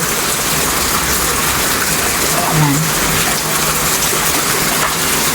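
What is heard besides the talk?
heavy rain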